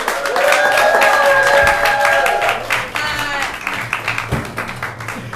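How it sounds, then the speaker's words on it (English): A theatre audience at a drag performance applauds and cheers, a dense wash of clapping that stays strong then gradually thins into scattered claps and crowd noise. "Give a round of applause, Simply Divine!"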